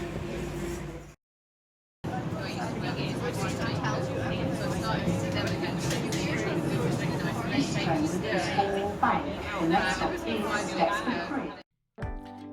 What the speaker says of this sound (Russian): Это электрические поезда без водителя.